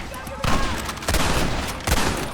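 Gunfire in a shootout at a gate in the Xbox 360 game Red Dead Redemption, several loud sharp bursts of shots in quick succession over a noisy battle background.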